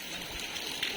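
Rain pours down in Chennai during a November cyclone, a steady broadband hiss of falling water heard briefly with no voices over it.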